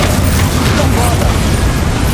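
The Bombarda explosion spell goes off in Hogwarts Legacy as a loud, dense, continuous booming roar filling the short span, layered with other spell effects and a voice calling out.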